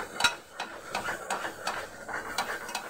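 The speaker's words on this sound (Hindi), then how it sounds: "इसको हिलाते रहना" A spoon stirring tomato masala with besan in ghee in a pan, giving a series of light clinks and scrapes at a steady, roughly half-second rhythm, quiet and close, with no talk.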